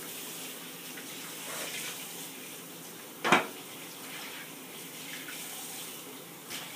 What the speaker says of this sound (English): Now we're going to rinse off the ribs.